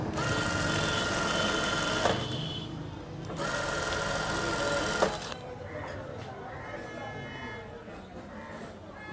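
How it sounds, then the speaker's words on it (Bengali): A sewing machine stitches a frock starting from a marked line, running loud and steady in continuous bursts with brief pauses, while a voice talks over it. "এখানে যে দাগ আছে দাগ থেকে আমি সেলাইটা শুরু করতেছি।"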